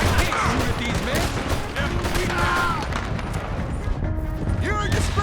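Rapid gunfire and ricochets erupt during a shootout in Red Dead Redemption 2, loud and sustained. Voices shout over the cracking shots.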